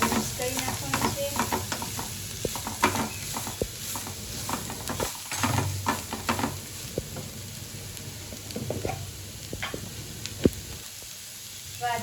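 Carrots and vegetables frying in a pan for momo filling, stirred with a spoon: repeated scraping and clacking strokes over a soft continuous sizzle, close by, no talk.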